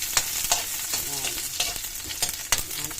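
Miswa noodles sizzle in a pan with garlic and onion while being stir-fried, with loud constant frying hiss broken by sharp scrapes and clacks of the spatula about every half second, close up and without speech.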